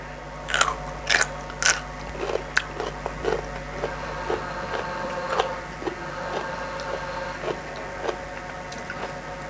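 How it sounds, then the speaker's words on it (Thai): Raw fresh vegetables are bitten and chewed close up, with several loud crisp crunches at the start and then a steady run of softer crunching chews. "วันนี้ จะลองกินแบบดิบๆนี่แหละค่ะ ว่ารสชาติเขาจะเป็นยังไงเนาะ"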